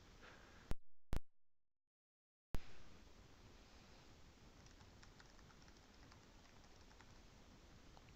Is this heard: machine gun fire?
no